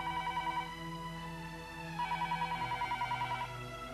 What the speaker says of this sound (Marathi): टेलिफोनच्या रिंगनी हॉटेल मालकाची तंद्री भंग पावली